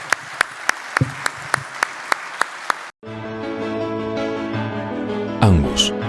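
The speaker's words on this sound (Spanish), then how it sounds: "un gran aplauso para Guillermo Dietrich." A crowd at a livestock event for Angus cattle claps and cheers loudly in a long, dense burst of applause, preceded by sharp rhythmic percussion hits.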